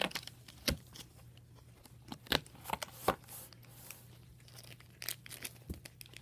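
A catnip packet crinkles and rustles beside a new cat scratcher, giving faint, scattered crackly bursts with quiet gaps between them.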